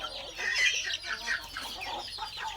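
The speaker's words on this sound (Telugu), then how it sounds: "ప్లస్ ఇవన్నీ కోళ్ళు" Chickens clucking in a mesh-enclosed backyard coop, several birds giving close, busy overlapping clucks and short squawks without pause.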